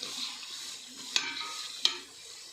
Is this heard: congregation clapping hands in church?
no